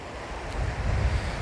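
Sea surf washes onto a beach in a steady, broad rush, with wind buffeting the microphone and no voices over it.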